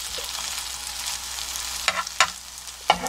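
Egg mixture for Korean street toast frying in a pan, a quiet steady sizzle broken by a few sharp scraping clicks of a spatula near the end.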